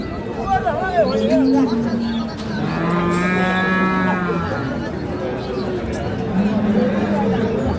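A cow lets out a long, drawn-out moo amid a busy crowd at the Ambari cattle market, where dairy cows with calves are sold, with people chattering all around and other livestock calling faintly.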